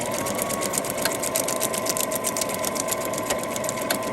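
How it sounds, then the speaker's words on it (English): Sewing machine stitching a paper corset for a junk journal, a steady close whirring hum with a rapid mechanical needle rhythm running continuously, no voices. "So you see how I'm just stitching that right along there."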